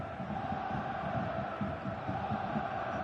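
Stadium crowd chanting on a clear evening in a football video game, a dense steady roar with rhythmic pulses, loud and continuous throughout.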